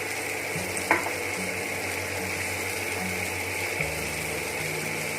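Corn with salt and crushed black pepper sautéed and stirred in a pan makes a steady, soft sizzle over a low hum, with a couple of sharp utensil clinks against the pan.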